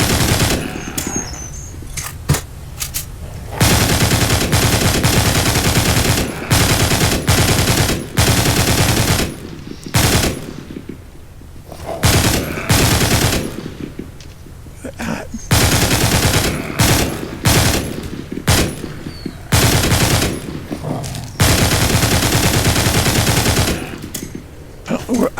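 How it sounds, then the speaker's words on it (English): A Gatling gun in a video game fires in long, loud, sustained bursts separated by short pauses, harsh and close throughout. "I don't know how to get rid of the Gatling gun"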